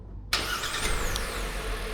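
After a moment of quiet, a BAIC X55 II crossover's engine abruptly fires up by remote start and settles into a steady idle hum, with no one speaking.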